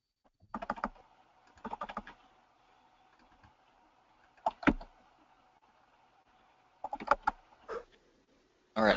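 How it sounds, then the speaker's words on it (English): Someone types on a computer keyboard during an online meeting, with short bursts of quiet clicking keystrokes separated by pauses, picked up faintly by a nearby microphone. "I hear someone's typing"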